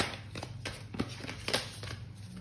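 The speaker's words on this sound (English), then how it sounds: "just going to give some quick shuffles" Tarot cards given a few quick shuffles close by, a series of short crisp riffling and slapping sounds at an uneven rhythm in a quiet room.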